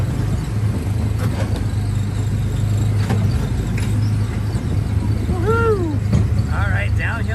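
A Disneyland Autopia ride car drives along with a steady low engine drone throughout, joined by faint birdlike chirps and other park sounds in the background.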